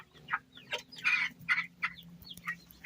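Four-week-old broiler chickens on a farm in Jamaica give a close, busy run of clucks and short chirps, one call after another with no talking.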